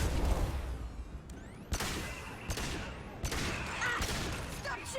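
Sci-fi gunfire from the Mass Effect 2 combat, several sharp shots and booms spaced irregularly amid rumbling battle noise and whooshing effects.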